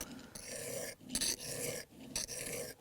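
Steel sole of a Stanley 9-1/4 block plane being rubbed back and forth on a 120 grit sharpening stone, giving steady close gritty rasping strokes, about three passes separated by brief pauses, with no talk.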